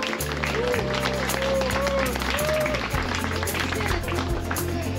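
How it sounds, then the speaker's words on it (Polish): A crowd at a vegan charity run applauds a race finisher, with steady clapping and cheering lasting throughout as an announcer speaks over it. "Maja Górka, wielkie brawa!"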